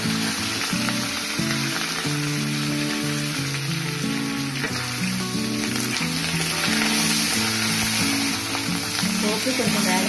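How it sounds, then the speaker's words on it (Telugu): A tempering of asafoetida, curry leaves and green chillies fries in a pan for Andhra gongura pachadi, giving a steady loud sizzle throughout while music plays underneath. "పోపు కొంచెం వేగించాము."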